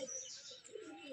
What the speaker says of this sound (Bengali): এই যে কালো নর ডাকছে এটা